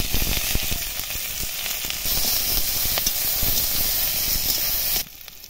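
Chopped onions sizzle loudly in a frying pan, a dense steady hiss with crackles and the scrape of stirring. Near its end it drops abruptly to a quieter sizzle.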